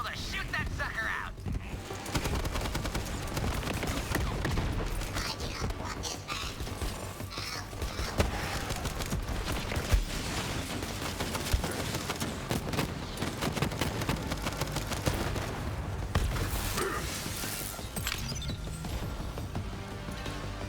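Steady gunfire in Borderlands 3 pours into a force field, dense and continuous, with rapid shots running the whole time under other game effects and a talking voice.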